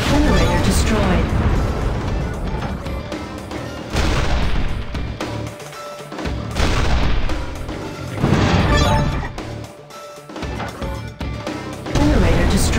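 Heavy booming explosions from dropped bombs in the Warfair mobile strategy game land in several loud waves, separated by brief quieter gaps, with in-game voices speaking between blasts.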